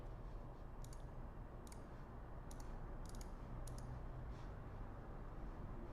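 Several sharp mouse clicks, spaced irregularly and fairly faint, from a computer user uploading an image in a WordPress theme editor, over a steady background hiss.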